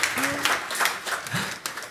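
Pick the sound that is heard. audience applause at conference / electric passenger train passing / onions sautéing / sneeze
audience applause at conference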